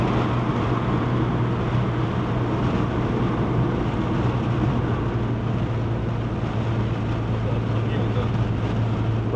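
Tuned Proton S70 with a 1.5-litre three-cylinder turbo engine making 178 whp, driven uphill on the Genting road in Malaysia: a steady low engine drone with constant road and wind noise inside the cabin.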